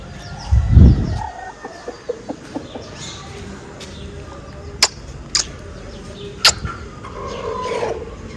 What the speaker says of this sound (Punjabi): ਇੱਕ ਨਵੀਂ ਮੁਰਗੀ ਵੀ ਅੰਦਰ ਲਿਆਂਦੀ ਹੈ